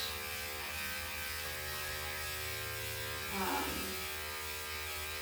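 Electric grooming clippers fitted with a 4 blade (3/8 inch) hum steadily at low volume, with a brief bump of louder buzzing midway as they meet fur.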